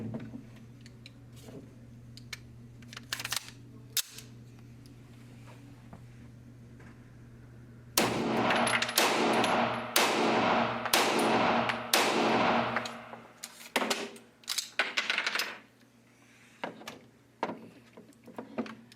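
Pistol shots at an outdoor range from a SIG P226 or Beretta M9, a quick string of sharp, loud reports fired in close succession, with a few scattered bangs before and after.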